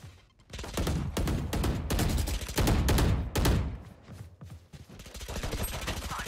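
Explosions from swamp grenades in a PC shooter game ring out in a dense, loud cluster of repeated bursts and gunfire-like blasts, with brief gaps, and faint talk beneath.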